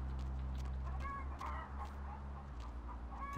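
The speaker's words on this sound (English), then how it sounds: "There's chickens somewhere." Chickens clucking somewhere in the background of the video game Vampire: The Masquerade – Bloodlines, soft, scattered calls over a steady low ambient hum, with no talk.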